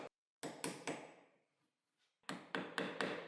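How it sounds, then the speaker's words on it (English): Sharp wooden taps from a chisel cutting a channel in a wood workpiece for a workbench, struck in quick clusters of three to four with a pause between, close and crisp. "I finished cutting the channel with a chisel."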